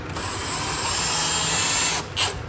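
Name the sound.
cordless drill running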